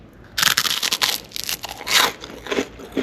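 Someone bites into crunchy food fresh from a Kitchen Elite air fryer toaster oven, giving a run of loud, close crunches and crackles that repeat over about two and a half seconds, with no talking.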